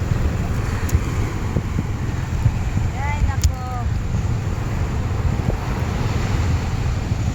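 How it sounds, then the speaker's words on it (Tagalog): Rough sea at a beach in Infanta, Quezon, with wind buffeting the microphone and a steady broadband surf roar throughout; a brief voice-like tone comes in midway. "Yan, maalon."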